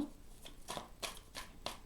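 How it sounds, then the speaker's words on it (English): Tarot cards are shuffled by hand in a quiet room, giving four or five soft, rhythmic riffling bursts at close range with no talking. "I'll shuffle 3 more times"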